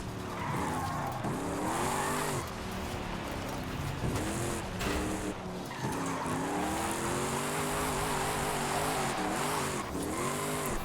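Power Stroke diesel-swapped Mustang in Forza Horizon 5 revs hard through fourth gear, engine pitch rising and falling in repeated sweeps under continuous tire squeal and skidding, loud and close.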